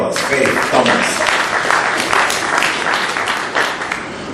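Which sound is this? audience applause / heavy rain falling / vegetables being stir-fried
audience applause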